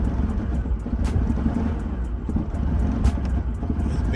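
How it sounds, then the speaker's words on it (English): A Ford Grand Marquis in need of a tune-up idles with a rough, uneven rumble, its loud, close engine note broken by irregular stumbles and puffs from a misfire, with no talking. "It's misfiring."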